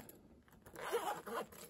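A quick zip closes a tiny Claire's bag-charm backpack, producing a soft, close scratchy rasp lasting about a second.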